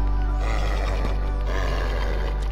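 A horse in the Minecraft video game neighs, one drawn-out whinny over a steady low hum of game audio, loud and close.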